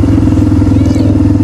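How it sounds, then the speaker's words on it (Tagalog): An ATV engine roars loudly and steadily up close on an off-road training area, a continuous rough, throbbing drone with no break across the whole moment. "ang lakas ng motor"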